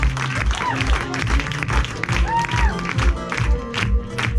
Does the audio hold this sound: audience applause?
yes